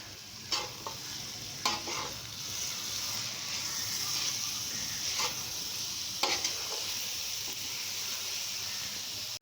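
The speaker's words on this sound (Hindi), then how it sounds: "कसूरी मेथी शामिल करके 1 मिनट तक मैंने इसे भून लिया है" Spices and kasuri methi being roasted with mutton liver on a tawa: a steady close sizzle with periodic scraping stirs of a spatula, no talking.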